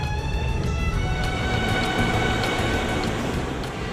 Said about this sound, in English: trains that run regularly between the city centre and the port